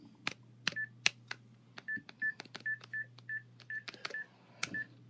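A telephone being dialed on a radio show, with a run of short, evenly spaced DTMF keypad tones beeping one after another, loud and close, alongside a few sharper clicks and a steady low hum underneath.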